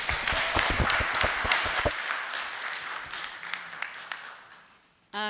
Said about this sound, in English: Another round of applause for the participants.